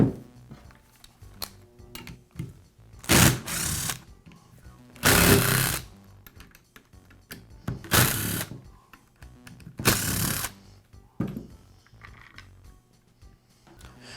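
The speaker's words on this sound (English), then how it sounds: "I'll begin by removing the belt housing from the sander." Makita belt sander having its belt housing removed, heard as a few short loud bursts of mechanical rattling and scraping separated by quieter handling noises, with no talking.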